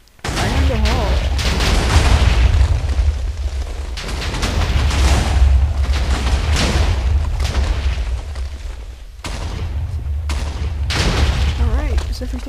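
TNT explosions in the video game Light of Aster, heard as sustained loud rumbling booms rolling through the whole stretch with a brief dip before another burst.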